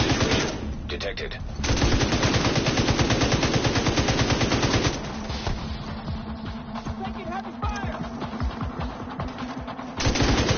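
Heavy sustained machine-gun fire in a PS4 video game, loud rapid bursts of automatic shots with game voices talking underneath and a brief pause partway through.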